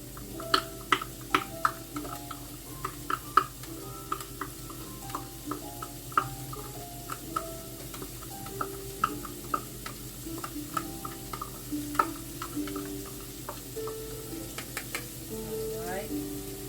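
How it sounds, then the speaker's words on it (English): Meat pie filling gets mixed in a pan with a spoon, giving repeated sharp scrapes and clicks against the pan over a soft sizzle, fairly close, while a person talks now and then. "Let's mix it all up in there."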